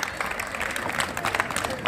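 An audience at a student gathering claps together in a dense, steady patter of applause with a murmur of crowd noise underneath.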